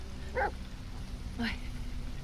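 A dog in The Medium gives two short, sharp barks or yelps about a second apart over a low, droning background.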